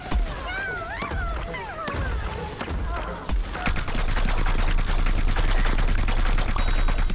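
Rapid gunfire rattles in the Plants vs. Zombies Garden Warfare shooter game, with scattered shots and thuds early giving way to a dense, sustained burst of automatic fire, loud and close, with a voice talking over parts of it.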